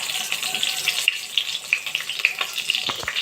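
Steady crackling sizzle of masala-stuffed thorny brinjals frying in hot oil tempering, with sharp pops and spatters scattered throughout, close and fairly loud.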